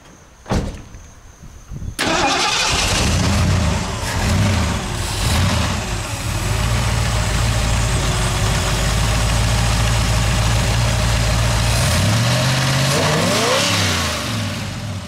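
A Jeep Comanche with a swapped-in Ford Cleveland V8 cranks briefly and then fires up loudly, settling into a deep, rumbling idle with a couple of small revs near the end.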